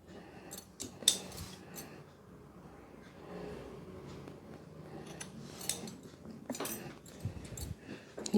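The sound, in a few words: cutting knitting yarn with scissors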